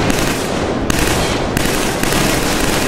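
Sustained, loud automatic gunfire from the Killzone 3 video game, a dense continuous burst of rapid shots with a few sharper bursts standing out, filling the whole stretch with no talk.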